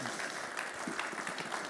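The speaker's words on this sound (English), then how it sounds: "big round of applause for Maxym" An audience applauds after a drone showcase talk, with steady, even clapping from a crowd throughout.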